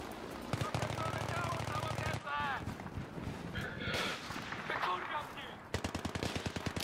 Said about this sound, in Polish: Słyszę strzała, a nikogo nie widzę.